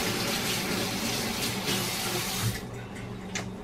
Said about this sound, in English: Rinse off the tongs.